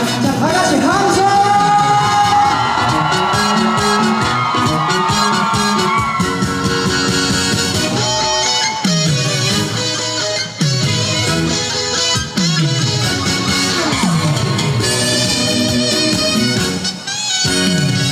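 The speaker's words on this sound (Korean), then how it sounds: "자 다같이 함성." A festival crowd at the Imsil N Cheese Festival shouts and cheers loudly and continuously over amplified music, with voices rising in waves throughout.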